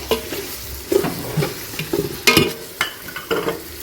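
Ground biryani masala being stirred into chicken frying for Malabar chicken biryani, with close, loud, irregular scraping strokes of a spoon over a background sizzle.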